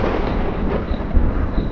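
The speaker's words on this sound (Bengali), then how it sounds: "এবং তার সাথে কাছেই কোথাও বাজ পড়ার বিকট শব্দ শোনা গেল।" A thunderclap sound effect in a spoken audio story: a loud, close, deep rumbling crash that rolls on steadily for a couple of seconds without any voice.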